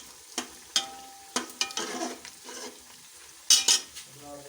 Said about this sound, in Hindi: और इसको हिला लेंगे।